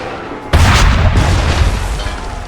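A single cannon shot fires in the video game Assassin's Creed 3, a sudden loud deep boom that erupts half a second in and rolls out into a long rumbling tail.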